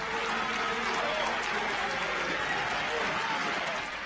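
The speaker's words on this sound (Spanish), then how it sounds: "La ovación para Darío Benedetto, la primera de la tarde" Stadium crowd at La Bombonera giving an ovation to footballer Darío Benedetto before a match, a dense, sustained roar of cheering and applause filling the whole stretch, with a commentator's voice over it.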